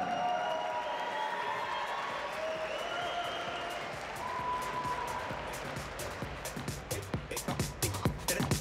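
Applause for French boxer Rachid Khadda at a World Series of Boxing bout in Mexico, a steady wash of crowd clapping and cheering that ends in sharper, distinct claps, with a voice over the top.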